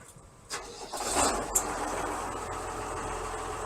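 A YTO NLX 1404 tractor's diesel engine cranks briefly and catches, settling into a steady low idle, heard from close by with no talking.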